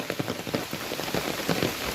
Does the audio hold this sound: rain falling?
yes